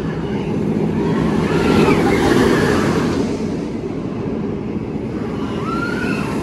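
A roller coaster train at SeaWorld San Diego rushes past on the track, a loud swelling roar that peaks mid-pass and fades away, with a voice faintly present.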